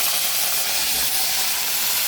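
Curry leaves sizzling in hot coconut oil for a Karnataka-style tamarind fish curry, a loud, close, continuous hissing roar with no breaks or voices.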